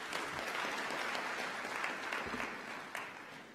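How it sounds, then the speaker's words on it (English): A graduation ceremony audience gives the Chancellor a short burst of dense, distant-sounding applause that holds steady and then tapers off. "May we applaud the Chancellor again."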